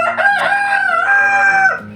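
A chicken calls loudly and close by inside a coop, a sustained crow-like cry lasting nearly two seconds, with no talking.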